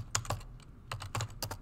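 Quick keystrokes on a computer keyboard as a file name is entered, about eight crisp taps in short clustered bursts, close and clear with no talking.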